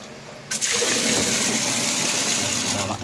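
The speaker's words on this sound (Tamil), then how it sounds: "எவ்வளோ ஃபோர்ஸாக தண்ணி வருது இங்கே பாருங்கள்" Water suddenly bursts out and gushes forcefully from a pipe, a loud, steady rushing splash that continues to the end.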